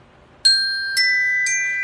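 Three bright ding-dong chime tones sound one after another, each ringing on and overlapping with sustained tonal harmonics, marking a completed exercise in a spoken affirmation session.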